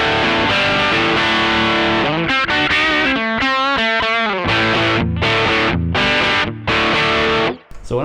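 Electric guitar partscaster on the back pickup with tone full up, played through the dirty channel of a Koch Studio Tone 20 amp with bright switch on: distorted chords and riffs, loud and continuous, with short gaps near the end.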